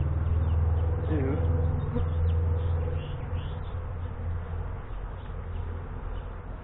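A swarm of honeybees flying around bait hives outdoors, a dense continuous buzzing hum close by, steady throughout and easing slightly in the second half.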